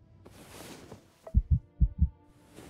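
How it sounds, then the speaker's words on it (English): A soft, low game heartbeat thumps in two paired beats, four muffled pulses in all, close and isolated after a faint hum, signalling survival-mode affliction in Starfield. "Light heartbeat."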